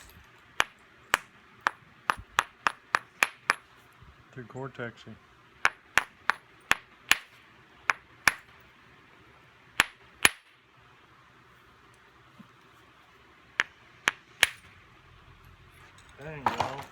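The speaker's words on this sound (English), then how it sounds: "I need to go get a hammer or something to hit this sucker." A hammer striking a hard big Texas tough rock, sharp metallic clanging blows in bursts, some rapid and some spaced out, close and loud, with brief talk in between.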